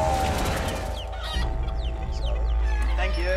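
Chickens cluck in an outback hen house, several birds calling close and busy over a loud, constant low rumble that runs throughout.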